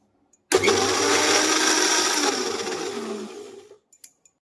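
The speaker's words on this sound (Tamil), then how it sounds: "இப்போ நல்லா கிரைண்ட் பண்ணி இந்த தயிரோட" A kitchen blender grinding mint chutney with yogurt, lemon juice and salt, starting abruptly and whirring loudly and steadily for about three seconds before spinning down, followed by a couple of small knocks.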